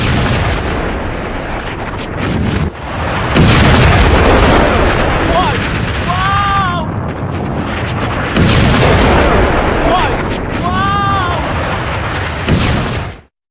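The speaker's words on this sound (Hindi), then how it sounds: "हवा में ही आयरन डोम ने इंटरसेप्ट किया ईरानी मिसाइल को और उसको हवा में ही धुआं कर दिया" Iron Dome air-defence interceptions of Iranian missiles over Israel: loud deep booms and blasts recur in two heavy bursts, with rumbling between them and a faint rising tone, heard without speech.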